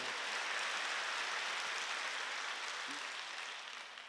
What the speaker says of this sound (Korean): 빨리 박수요